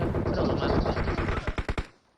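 Rapid bursts of automatic gunfire in PUBG Mobile, dense at first then breaking into a few separate sharp shots before stopping.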